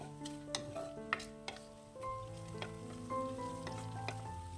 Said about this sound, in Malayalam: ഒരു 20-30 സെക്കൻഡ് നേരത്തേനൊന്ന് ഇളക്കി കൊടുക്കണം.